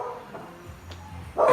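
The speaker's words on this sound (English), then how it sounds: "that's our dog Betty." Betty, a family dog, lets out a short bark or yip in a home kitchen, a brief burst near the end after low background household noise.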